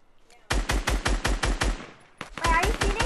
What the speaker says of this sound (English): I shoot you, but I cannot hit you.